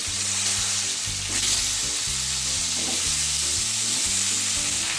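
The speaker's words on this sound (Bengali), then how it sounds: "ভালো নাড়িয়ে নেব।" Pumpkin, potato and tomato frying in mustard oil with five-spice and dried chilli, a loud continuous sizzle with stirring scrapes and low rhythmic thumps underneath.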